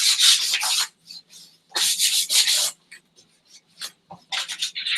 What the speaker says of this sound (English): you're just sanding until you can feel the difference in the material.